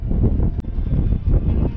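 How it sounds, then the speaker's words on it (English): Wind buffeting a microphone during night flying, a loud, rough, gusty rumble that swells and dips continuously with a sharp click partway through. "It's so windy."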